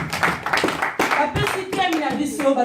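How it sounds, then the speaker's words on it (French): A church congregation claps together in sustained applause during a worship service, dense and loud, with some voices mixed in. "Nous applaudissons pour la parole."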